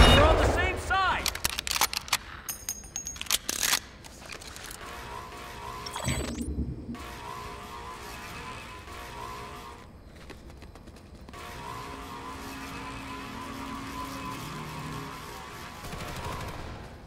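Video game gunfire crackles in bursts of rapid shots, dense and loud at first, then sparser, with shouting voices and background game noise throughout.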